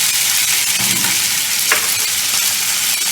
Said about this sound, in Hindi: 2 चम्मच ऑयल अपने पैन में डाल दिया। चिकन डालना है इसके अंदर।